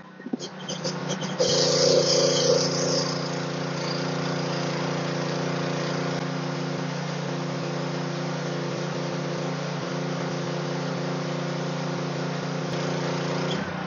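A PK160 welding machine with 80 to 160 amp capacity runs with a steady, droning hum and a louder surge in the first seconds, then settles into an even, continuous tone with no talk.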